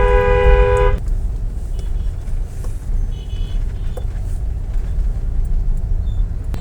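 Heavy road traffic jams a narrow street at Khilkhet Moddhobazar in Dhaka, opening with a loud, held car horn for about a second, then a constant engine rumble with scattered distant honks and clatter.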